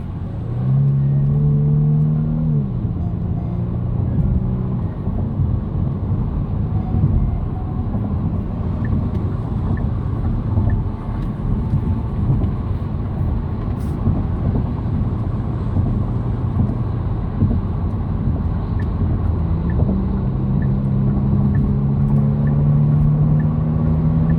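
A 2022 Genesis G70 Launch Edition pulls hard on a highway, its engine droning loudly over constant road and tire rumble. Rising engine tones mark acceleration at the start and again near the end.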